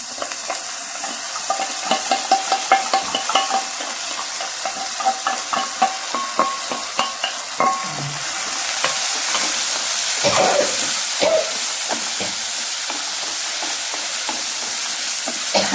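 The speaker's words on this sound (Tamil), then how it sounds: "இந்த பருப்பு வந்து இந்த வெங்காயத்தோட ஒரு நிமிஷம் வதங்கட்டும்." Soaked lentils sautéing with half-softened onions in a pan for beans and small-lentil poriyal, a steady close sizzle broken by repeated scraping clicks of stirring, with a louder burst of frying midway.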